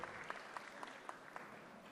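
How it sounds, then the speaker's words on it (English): An audience at the UN-Habitat Assembly high-level session applauds, a faint, steady patter of many hands with a few sharper claps standing out. "Let's applaud them."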